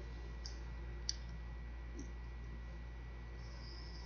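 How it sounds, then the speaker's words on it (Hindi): A few faint, sharp computer mouse clicks, spaced apart, over a steady low hum with no talking. "इस पर क्लिक करें।"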